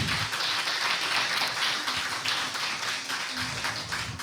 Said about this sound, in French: Je vous prie de bien les applaudir.